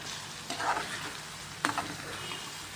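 A spoon stirs prawn tomato curry in a pan, giving soft scraping and light sizzling with a couple of sharper clinks at close range and no talk.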